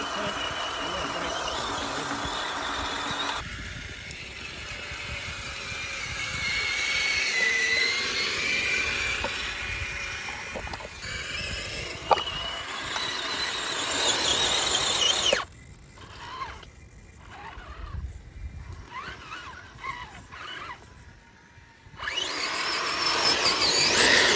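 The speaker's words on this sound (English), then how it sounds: "Spinning the wheels a little bit." A dual-motor RC rock crawler spins its wheels on a steep climb, its electric motors whining and gears ratcheting in uneven bursts that drop out briefly near the end, with voices talking at moments.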